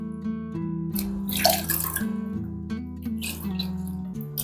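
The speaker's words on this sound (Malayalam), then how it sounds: "അപ്പൊ ഇനി രണ്ട് കൈയും ഇതിലൊന്ന് മുക്കി വെക്കുകയാണ് ചെയ്യുന്നത്." Hands dipped and swished in a bowl of water mixed with hand wash, soft wet splashes and drips near the mic over a steady low musical hum, no speech.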